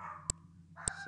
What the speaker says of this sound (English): oh, that's my dog, somebody's home or something